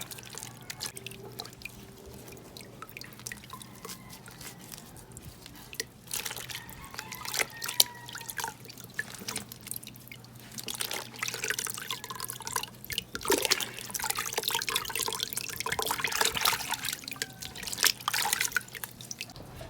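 Water trickles and drips steadily while succulent soil is soaked, a close, continuous dribble with scattered louder drips and splashes throughout, no talking.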